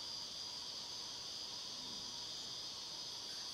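Cicadas buzz continuously in a steady, high, droning chorus at moderate distance, with no voices over them.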